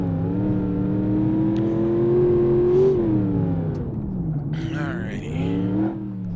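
A Gavril Grand Marshal V8 in BeamNG.drive revs steadily, its rumbling engine note swelling and then dipping as the throttle changes, with a brief higher whine near the end. The engine sound is close and continuous, with no talking.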